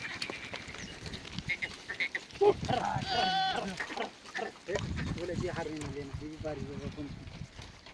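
Kathiyawadi goats on a goat farm bleat in a wavering, nasal call near the middle, with other farm animal noises around it and people talking nearby throughout.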